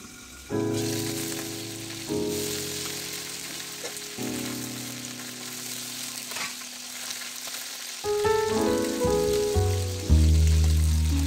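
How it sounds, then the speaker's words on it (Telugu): Mint leaves with bay leaf, peppercorns and fennel seeds fry in hot oil, giving a loud, continuous sizzle and crackle up close, with a fresh burst of hissing each time more is added to the pan. "పుదీనా నూనెలో బాగా వేగాలి, టేస్ట్ బాగుంటుంది."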